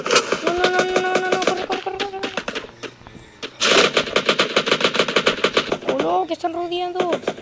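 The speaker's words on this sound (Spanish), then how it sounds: "Ay, Dios mío, me están disparando." Rapid bursts of automatic gunfire in the Free Fire battle game, loud and close, in quick rattling volleys with short pauses and a background game tone, while a player talks.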